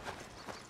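Mule hooves clip-clop in Red Dead Redemption 2, two soft muffled footfalls at a steady walking pace, faint and alone with no talk.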